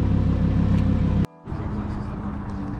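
A car rolls in at a drive-in car meet, its engine a steady low rumble close by, broken by a brief dropout before the idle and rolling drone return.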